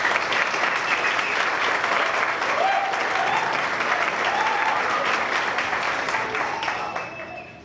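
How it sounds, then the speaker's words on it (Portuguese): Wedding guests applaud the groom's parents with a dense, sustained round of clapping from a crowd, loud and continuous before tapering off at the end, with faint voices mixed in. "que eu peço para os dois também uma salva de palmas"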